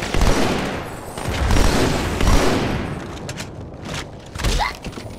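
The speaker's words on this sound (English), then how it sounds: "Well, that's a grenade." Explosions and gunfire from the Halo 2: Anniversary shooter, with repeated loud thumping booms and bursts of weapon fire spread across several seconds in a busy, dense battle mix.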